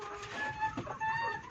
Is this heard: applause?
no